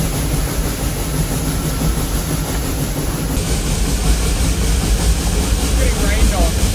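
A steam train climbing a grade in Tasmania rumbles and chugs continuously at close range, a loud, dense mechanical roar with rhythmic churning and a high hiss over it.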